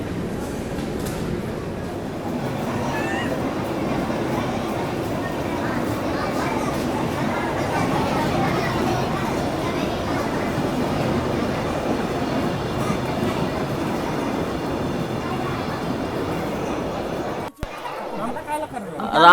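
Amrapali Express pulling out of Jalandhar City Junction after a five-minute halt, a steady rumble of the moving train under continuous crowd chatter inside the coach, ending in a brief dropout and a bump.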